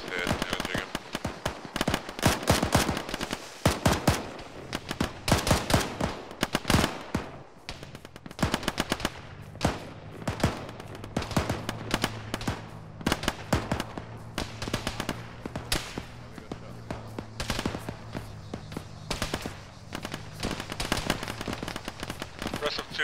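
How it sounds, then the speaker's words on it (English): Rapid bursts of automatic and single gunfire from an Arma military simulation game crackle throughout, dense and loud at the start and more scattered later, with voices talking over the fire. "Running, myself and Rico are taking direct fire, we're taking cover, returning."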